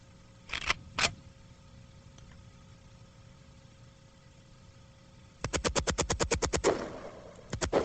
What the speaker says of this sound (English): This is the fully automatic firearm. It's an AK-47.